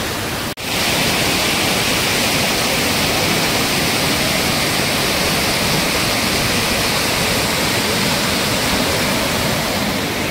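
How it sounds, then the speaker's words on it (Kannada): A waterfall near Sringeri roars in a loud, steady, unbroken rush of falling water, dense and close, with no voices over it. "ನೋಡಿ ಫಾಲ್ಸ್ ಹೆಂಗಿದೆ ಅಂತ."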